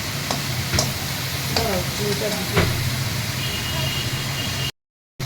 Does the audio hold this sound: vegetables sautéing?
yes